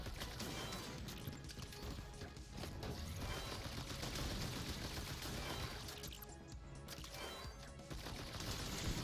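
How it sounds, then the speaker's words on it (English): Rapid gunfire from shooting enemies in a VR video game, dense cracks and bursts running steadily throughout amid chaotic game noise, with a voice faintly mixed in. "You shoot these guys"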